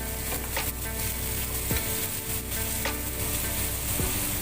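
Onions stir-fried in a pan for chili-salt pork neck give a steady, close sizzle throughout, broken by several quick scraping strokes of a spatula against the pan.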